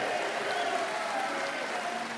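A crowd of Nottingham fans at Carl Froch's Honorary Freeman of the City event applauds steadily, a dense, even wash of clapping that fills the room without pause.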